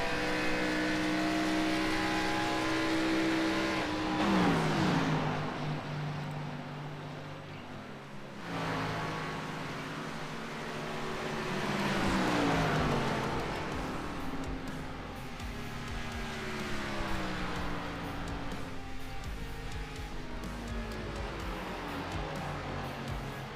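Race cars practice at Texas Motor Speedway in a racing video game, with engine drones sweeping up and down in pitch as cars accelerate and pass, steady and moderately loud throughout without speech.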